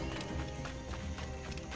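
Horse hooves clip-clopping in Assassin's Creed Black Flag, a quick, steady run of hoofbeats heard close and continuous against a dense game soundscape.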